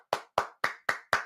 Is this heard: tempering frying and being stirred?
no